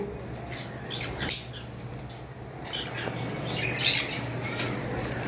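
Pet birds kept in a shop let out a few sharp squawks and chirps, with a louder one early and another burst near the middle, over a steady low background hum.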